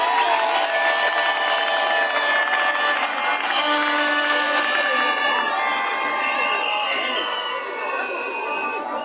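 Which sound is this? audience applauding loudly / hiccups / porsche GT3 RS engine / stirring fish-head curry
audience applauding loudly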